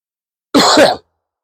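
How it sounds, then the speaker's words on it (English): A single short cough, close and fairly loud, with a rough throaty burst and no speech around it. "Excuse me, that's coughing."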